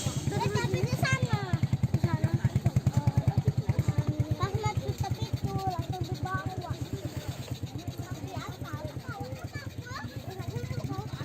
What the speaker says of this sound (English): Watch out for the motorbikes.